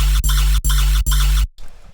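Dubstep synth tone with its ring mod frequency adjusted to change the timbre, four loud buzzing bursts back to back, then a faint noisy tail.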